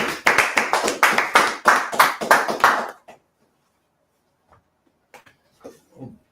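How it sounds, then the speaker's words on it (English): An audience at a UK law class claps loudly for about three seconds in a fast, rhythmic burst, then falls quiet apart from a few faint scattered sounds. "Everyone clap it up. Clap it up."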